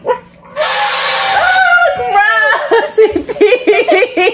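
A toy dog in a Peeing Pup game gives a short electronic bark and whimper, close and loud, while people chuckle and talk around it.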